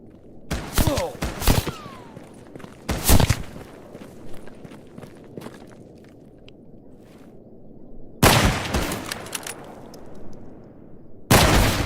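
Gunfire in the video game STALKER GAMMA, with loud sharp shotgun-like blasts in scattered bursts around a quieter stretch of footsteps and ambient rumble, no speech.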